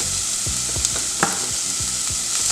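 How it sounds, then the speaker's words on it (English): Vegetables, including red peppers, sizzle steadily in a hot pan with a constant frying hiss, while several soft scraping stirs and light clinks from a utensil sound close by. "so our vegetables are cooking. They're getting a little soft here."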